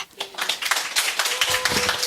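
A small audience claps during a teacher case-presentation session at an education conference, a brisk patter of hands filling the room for about two seconds after a brief quiet start.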